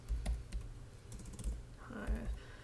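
Typing on a computer keyboard, a few scattered keystrokes and clicks, close and fairly quiet over a low hum, with a brief faint voice-like tone near the end.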